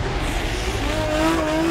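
Drift cars on a custom-built tarmac drift circuit laid inside a stadium, engines roaring steadily with rising tire squeal building toward the end, loud and continuous with no talk.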